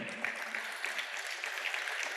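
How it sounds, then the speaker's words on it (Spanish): A church congregation gives a round of applause during a sermon, a fairly soft, even patter of many hands clapping with no talk over it. "Le damos un aplauso al Señor."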